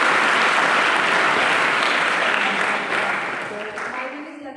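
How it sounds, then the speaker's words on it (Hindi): Schoolchildren clap loudly and continuously together, a dense, steady wash of applause that eases slightly toward the end. "एक बार अपने लिए जोरदार ताली बजाता हूँ।"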